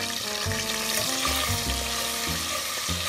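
Ginger garlic paste with a pinch of asafoetida sautéing in a pan for Maharashtrian misal, a steady loud sizzle and fry with stirring scrapes throughout, close up and without talk.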